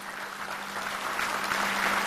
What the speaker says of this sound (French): hommage à son Excellence, Monsieur le Président de la République, sous vos applaudissements